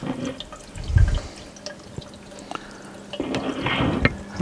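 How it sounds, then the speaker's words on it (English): Small droplets of liquid spill and drip near the engine of an old Bedford CA Windsor van, giving soft, irregular splashes and patters against faint background noise. "It's me spilling because little droplets are coming out."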